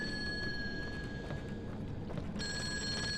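A telephone rings in the Fatal Frame: Maiden of Black Water video game, a shrill electronic tone sounding, breaking off briefly, then resuming, clear over a low rumbling ambience.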